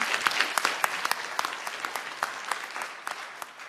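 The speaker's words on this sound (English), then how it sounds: "let's give them a round of applause" An audience at a comics conference applauds with a steady patter of many hands. Sharper individual claps poke out of the moderately quiet, continuous clapping.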